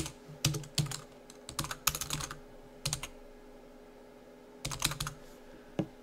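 Keystrokes on a computer keyboard while typing text into a LibreOffice Draw flowchart, arriving in quick clustered bursts with short pauses between them, close and fairly quiet over a faint steady hum.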